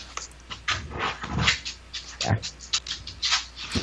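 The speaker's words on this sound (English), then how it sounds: "is that your dog? Not my dog. Not my dog. Roommate's dog." A roommate's dog growls and whimpers close by in a quiet room, giving low rumbling growls broken up by short whiny yelps and breathy sounds, with no talking.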